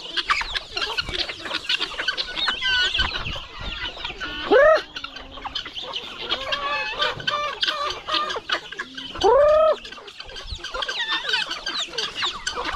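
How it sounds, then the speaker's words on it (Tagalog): Chickens cluck steadily and close by on a farm, with a rooster giving two loud, rising crowing calls partway through over the continuous flock chatter. "Yung isa natin tandang, oh."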